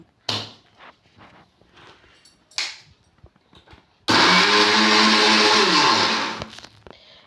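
A mixer jar grinding sugar for rava ladoo, preceded by a few light clicks and handling knocks, then a loud, steady whirring roar that runs for about two and a half seconds before spinning down.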